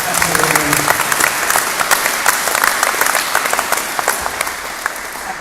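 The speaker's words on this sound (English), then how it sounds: "Can we give another round of applause to the choir?" An indoor bowls crowd gives the choir a loud round of applause, dense sustained clapping that fades slightly toward the end, with no talk over it.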